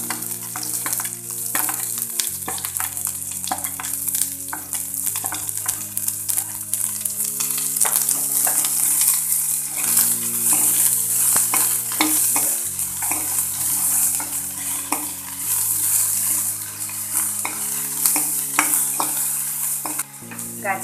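Dried onion stir-fried in a pan, a steady sizzle with repeated stirring and scraping strokes running continuously and up close, with no talking.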